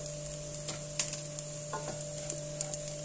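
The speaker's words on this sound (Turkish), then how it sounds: "Çok az da nohutu kavuracağım pirinçle beraber." Boiled chickpeas and rice being sautéed together in a pan for chicken pilaf: a steady soft sizzle with a few scraping stirs and light clicks, close and even, with no voices.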